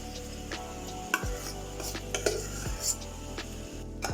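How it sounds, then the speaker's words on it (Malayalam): A spoon stirs dal (lentils) sautéed with chicken masala in a cooking pan, giving scattered clinks and scrapes of metal against the pan at an uneven rhythm. "അതൊന്ന് നന്നായിട്ട് ഇളക്കി കൊടുക്കാം."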